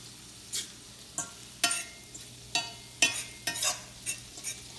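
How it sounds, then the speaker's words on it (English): Onions fry in a pan under a low, steady sizzle while a utensil scrapes and stirs in separate strokes about every half second, close and fairly quiet, with no talking. "you really got to watch these onions when they're cooking"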